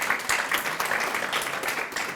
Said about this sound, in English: Give him a round of applause if you